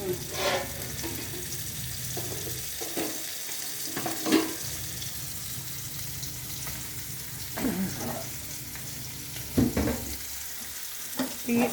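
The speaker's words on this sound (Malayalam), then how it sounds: "കടു വറുക്കാൻ പോവുകയാണ്." Mustard seeds fry in hot oil for tempering a curry, giving a soft continuous sizzle broken by scattered sharp pops and stirring scrapes over about twelve seconds, close and fairly quiet, with no talking.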